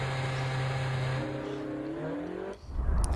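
Formula 1 car engine pulling out of the pits in the racing game F1 2013: a steady high engine drone that shifts and rises in pitch, then cuts off into a brief noisy burst near the end, with no talk.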